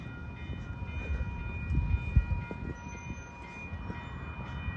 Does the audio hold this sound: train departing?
yes